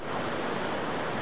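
Steady, dense rush of falling water from a waterfall inside a cave in the video game Final Fantasy IV, loud and continuous with no pauses.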